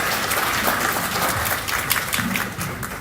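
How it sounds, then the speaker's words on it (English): An audience at a gathering in Nairobi gives a round of applause, a steady patter of many hands clapping at moderate loudness for a few seconds, tapering slightly at the end. "So a round of applause to all of them."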